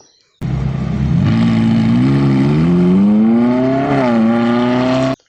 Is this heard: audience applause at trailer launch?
no